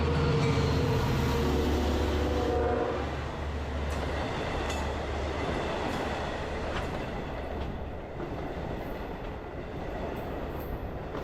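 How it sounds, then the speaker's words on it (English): An LIRR diesel Cannonball train passes through Patchogue station with a loud, steady rumble of engine and wheels, faint rail clicks, and a low drone that eases slightly as the cars roll by. "the next train to cross is the Cannonball"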